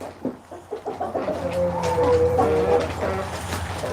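Chickens cluck close by in a series of short, choppy calls, with a longer drawn-out squawk partway through.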